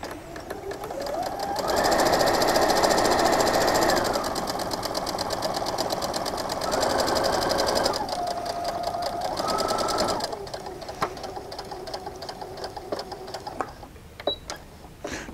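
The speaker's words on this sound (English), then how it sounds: "I'm going to start right at the bottom corners on the outside and sew around three sides of the building" A sewing machine stitches a quarter-inch seam around three sides of a cloth cityscape quilt block, running in steady close hums and pausing briefly between runs, with a voice talking over it.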